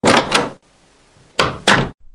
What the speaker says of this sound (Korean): 그렇게 동석은 문을 열고 나갔다